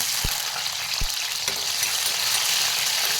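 Tomatoes frying in oil for tempering an aloo-vangi (potato and eggplant) curry, giving a steady close hiss of sizzling with a few soft utensil knocks early on.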